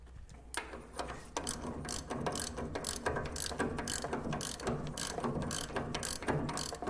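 A nut goes onto a bolt over a lock washer with red Loctite during an FJ40 mini truck power steering conversion, driven by a steady run of close, rapid ratcheting clicks with no talk.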